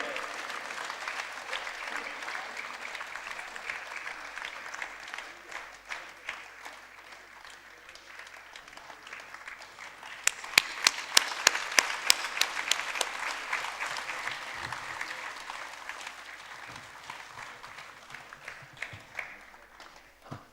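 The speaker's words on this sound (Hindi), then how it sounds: "तालियां बजती रहनी चाहिए भाई, ये शहीदों का सम्मान है" Sustained applause from an audience at an evening tribute event honouring martyrs on Independence Day, steady and dense throughout, swelling louder with sharper claps near the middle before easing back.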